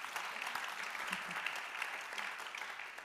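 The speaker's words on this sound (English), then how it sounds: "So give them a huge round of applause." An audience applauds a panel at a live artificial intelligence evening event, with steady, dense clapping throughout and no speech.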